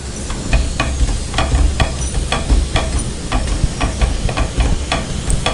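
Wheat khakhra pressed down and cooked with ghee on a hot pan, a continuous sizzle and hiss with regular soft scraping presses repeating every half second or so, close and fairly loud, no talking.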